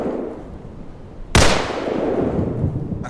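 A single sharp gunshot cracks in a storm chasing video game, loud and sudden against a rumbling wind-like background that keeps going afterward, with no speech.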